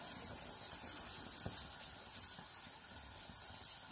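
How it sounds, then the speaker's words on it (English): The safety valve of a Retrol SE-02 model steam plant blows off steam as a steady, close, loud hiss that holds without a break. "The safety valve is blowing."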